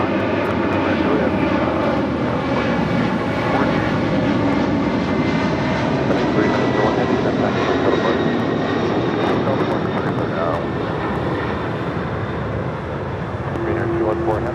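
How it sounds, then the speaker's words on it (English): An MD-11 jet rolling down runway 25 right at LAX gives a steady, broad engine roar that holds for the whole stretch. A voice talks over it at times. "swing the camera over as the MD-11 now rolling down 25 right"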